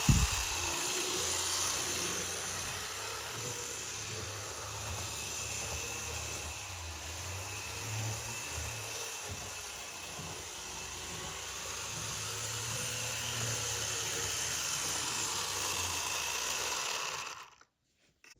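A vintage Bachmann Amtrak Metroliner HO model train runs along its track with a steady whirring motor hum and rolling rumble for about seventeen seconds, then stops abruptly. No one speaks.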